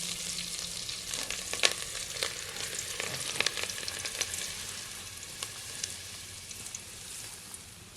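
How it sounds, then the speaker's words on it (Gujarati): Chopped green chillies sizzle in hot tempering oil for khaman, a steady crackling fry with scattered small pops throughout, close and moderately quiet, with no voices. "અને લીલા મરસાં કટકા કર્યા એ નાખી દઉં અને આપણે તૈયાર ખમણ લાવ્યા છે પણ આપણને એમાં વઘાર બહુ માથો ન લાગે એટલે આપણે આ ફરીને વઘાર કરીએ છીએ"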